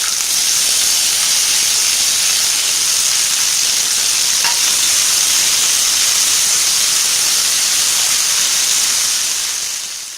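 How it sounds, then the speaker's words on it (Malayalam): Chopped potato frying in hot coconut oil in a pan, giving a steady, close, bright sizzle and hiss throughout with no talking. "അതിനുശേഷം അരിഞ്ഞു വെച്ചിരിക്കുന്ന പൊട്ടറ്റോ ആഡ് ചെയ്യുക."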